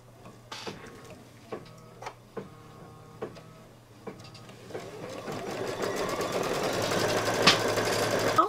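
A computerized embroidery machine stitches a background placement line for a Santa table runner, starting with a few slow, evenly spaced mechanical ticks and building into a steady, faster whirring stitch run.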